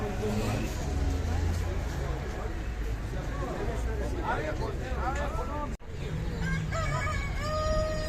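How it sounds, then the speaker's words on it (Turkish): A rooster crows amid a busy outdoor bazaar in Urmia, Iran, where roosters and birds are sold, with crowd chatter and street noise throughout; bird calls rise near the end. "Evet değişik horozlar var, kuşlar var."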